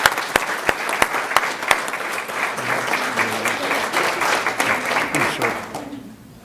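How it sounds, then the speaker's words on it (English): An audience at a county school board meeting gives a round of applause for the women's basketball coach of the year, with sharp close claps at first blending into steady clapping that fades away at the end. "Let's give her a nice round of applause."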